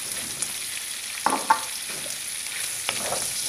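Sliced calabresa sausage rounds frying alongside bacon in a pan, a soft steady sizzle with a few sharp clicks and taps of a utensil, fairly quiet and close, no talking.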